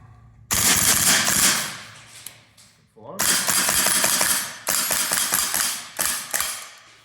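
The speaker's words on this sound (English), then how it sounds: "And I could still fire around 25 rounds with this." An E&L T-191 rifle fires a fast, loud burst of rounds up close, then stops briefly before a second long string of rapid shots, with a few short breaks between bursts and no talking.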